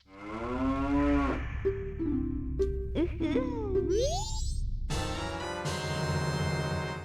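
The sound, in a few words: cow mooing in Majora's Mask video game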